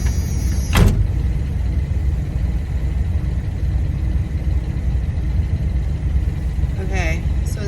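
A car engine idles steadily after starting, with the check engine light on and the running note sounding unusual; a low continuous rumble fills the clip, a brief thump near the start, and a short higher whir near the end.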